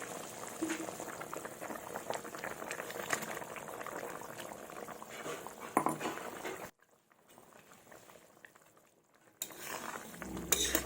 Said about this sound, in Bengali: এবার ভেজে রাখা ঢেঁড়স আর মাছ দিয়ে দেব